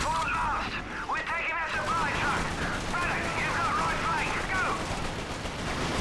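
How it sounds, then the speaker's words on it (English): Gunfire in Resistance: Fall of Man as a weapon shoots through a wall, a steady run of loud rapid shots throughout with game noise and a voice talking briefly. "I can shoot right through my wall."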